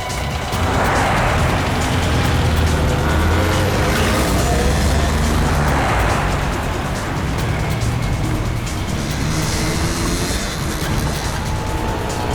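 Car driving past on a village road, a loud engine and tire roar that swells twice as vehicles go by, with steady road noise throughout and no voices.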